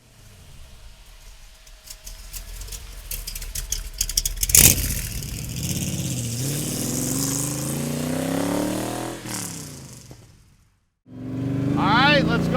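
A Factory Five Cobra Mark IV kit car with a rebuilt 302 V8 revs loudly, climbing and falling in pitch through several throttle blips, then cuts briefly before roaring up again close by.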